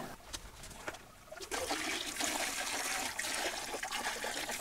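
Dirty, oily water drains out in a steady gushing trickle after a cleaning, growing louder and fuller partway through and running continuously to the end with no voices.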